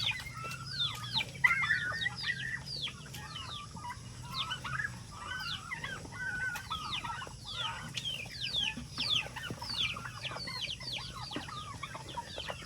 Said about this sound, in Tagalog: Ito na yung pabo.